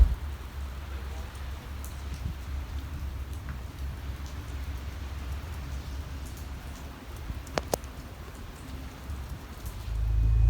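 Rain falling in cold, windy, foggy weather at Glacier National Park, a steady close hiss of drops pattering on surfaces, with a few sharp ticks and a louder low rumble swelling at the end.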